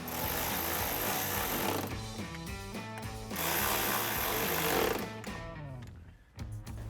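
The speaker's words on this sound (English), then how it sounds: "And then we'll take our 7mm socket to tighten those down." A ratchet fitted with a 7mm socket tightens bolts while a 2018-2020 Ford F-150 headlight is being installed, giving steady rapid clicking bursts up close, with a short pause before a second run and no talk.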